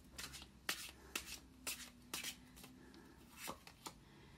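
Tarot cards are shuffled and drawn by hand, a quiet sequence of soft riffles and crisp card snaps in an irregular rhythm, close and alone.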